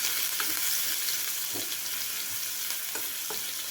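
Crushed garlic added to hot oil with cumin, sizzling steadily in a pan for a Kathiyawadi dahi tikhari, with a loud continuous fry broken by a few soft stirring scrapes.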